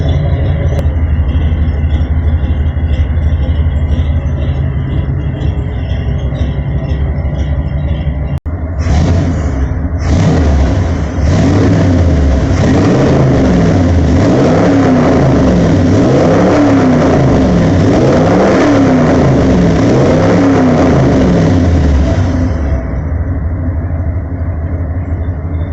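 Classic Ford F150 with a big block engine idles loudly through side pipes, then bursts into repeated hard revs toward redline, rising and falling pitch sweeps that are close and continuous, ending abruptly back near idle.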